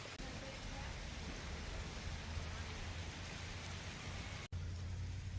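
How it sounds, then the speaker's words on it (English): Steady rain shower falling on surfaces at an afternoon campground in the Great Smoky Mountains, a continuous broadband hiss with a low rumble underneath, briefly cutting out near the end. "after that nice little afternoon rain shower"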